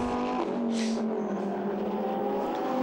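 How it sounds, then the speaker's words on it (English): Lamborghini Super Trofeo race car at the Nürburgring, a high engine note sweeping past with steady harmonic drone and a brief higher burst, heard under race broadcast ambience. "the Bonaldi Motorsport car goes through, up on the inside"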